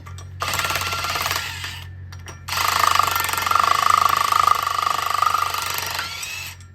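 A power tool whirs in two bursts while removing the reverse-threaded 19mm secondary sheave bolt on a Kawasaki Ridge, a short run then a longer steady one close by.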